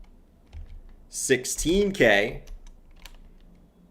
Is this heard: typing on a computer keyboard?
yes